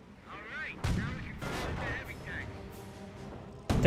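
Incendiary mortar rounds landing in a Company of Heroes battle, with sharp booming impacts at irregular intervals over a steady battlefield din and a strong final blast near the end.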